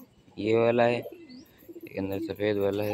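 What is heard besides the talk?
pigeon cooing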